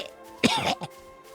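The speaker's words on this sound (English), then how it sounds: "that cough, that noise that I just made was genuine." A single short cough followed by throat clearing, close and fairly loud, with a second smaller rasp trailing after it and no talk.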